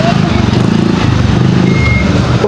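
A large truck maneuvers nearby on a busy street, its engine rumbling steadily with a faint reversing beep amid traffic noise and motorcycles, while people talk over it.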